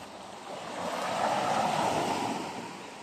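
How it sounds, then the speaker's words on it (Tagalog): Sea waves along a shore wash in a steady broadband rush that swells toward the middle and then eases, with some wind noise and no voices. "Yan ang dagat oh."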